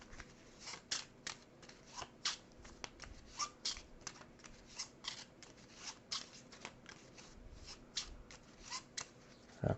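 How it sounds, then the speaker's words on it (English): A deck of cards shuffled during a solo tabletop game of Tabannusi: Builders of Ur, heard as a long run of crisp riffling and snapping bursts, close and clear with no talk. "So he is going to shuffle his deck here."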